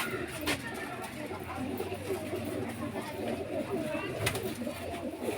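Pigeons coo in low, soft bursts close by, with a steady murmur of background chatter and rustling throughout.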